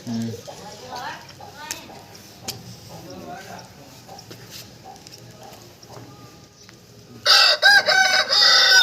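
People talk in the foreground, then a fighting rooster crows loudly and close by near the end.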